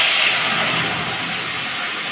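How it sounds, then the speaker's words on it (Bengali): Spices hit hot oil to temper lentil dal made with bottle gourd, giving a loud, steady, close sizzling hiss that starts strong and eases off slightly, with no voices. "ডালটা ফোড়ন দিয়ে দিচ্ছি"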